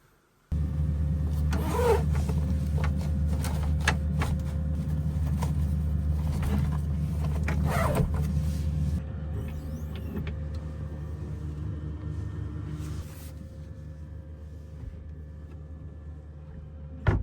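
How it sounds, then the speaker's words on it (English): A Lavender Smart Pro Alpine Max diesel heater runs with a steady low mechanical hum and whir at an off-grid campsite in Big Bear, California, with some scattered clicks over the top and the level dropping slightly partway through. "So this is the Lavender Smart diesel heater."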